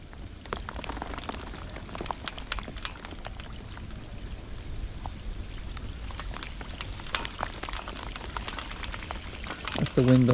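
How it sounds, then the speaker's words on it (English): Steady broadband wind rustling through tree leaves on the bank of the River Thames during a fishing match, a continuous close hiss with scattered sharp ticks, rising briefly at the end. "That's the wind on the tree. It's not actually raining anymore."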